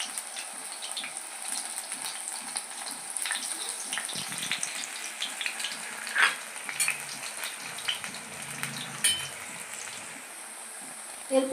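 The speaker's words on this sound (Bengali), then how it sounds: "এখন একটা একটা করে আমি তেলের মধ্যে বড়া দিয়ে দিলাম" Fritters frying in hot oil, a soft continuous crackling sizzle with faint bubbling and a few clinks of utensils, moderately quiet throughout.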